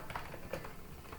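Faint keystrokes tapping on a computer keyboard while entering customer details into dispatch software, a brief scattered run of light clicks at low level with no talk.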